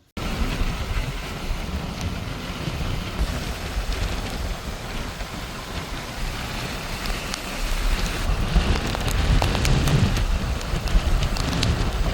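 Steady rain falls during a storm with wind, a dense continuous wash of drops that grows slightly heavier toward the end, with no voices.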